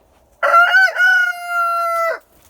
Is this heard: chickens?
yes